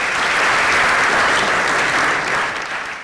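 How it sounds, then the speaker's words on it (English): Sustained, dense applause from an audience at an awards ceremony, a steady, full wash of clapping that holds for a few seconds and then begins to fade. "Please give him another round of applause"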